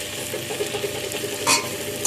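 Potatoes, tomato and drumstick pieces being stirred in a pan give a steady low sizzle with soft scraping, and a brighter scrape rises briefly around midway.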